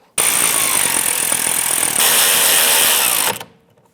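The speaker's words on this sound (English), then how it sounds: "I'm just going to get my electric ratchet and tighten this up." An electric ratchet tightens a rear brake caliper bolt on a 2012-2018 Nissan Altima in one loud, high-pitched whirring burst lasting about three seconds, then cuts off.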